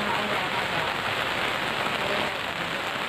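Rain falls steadily, a dense, loud hiss of drops hitting surfaces close by, continuous throughout with no voices.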